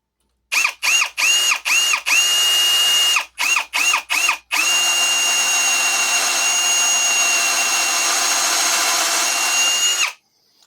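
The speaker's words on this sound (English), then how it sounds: "I could feel it pop through twice, but I'm going to go ahead and just drill all these." A power drill drilling through metal greenhouse brackets whirs in several short revving bursts, then runs steadily for about six seconds before stopping; loud and close.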